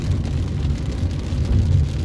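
Morning rain falls in Jeddah, a dense, steady patter with low rumbling underneath, close and fairly loud for the whole short stretch.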